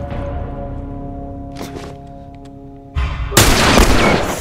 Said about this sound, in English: I'm only allowed one shot with the hunter's rifle